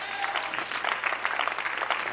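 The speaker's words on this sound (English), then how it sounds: "Clap your hands unto the Lord." Congregation clapping hands during a church sermon, a lively crowd of rhythmic, overlapping claps at moderate loudness with a faint hum beneath.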